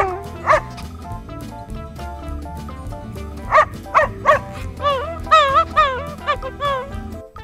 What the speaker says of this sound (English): This is farm dog.